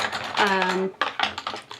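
A brief voice is followed by a cluster of light, irregular clicks and rattles from a mirror shifting and knocking about nearby.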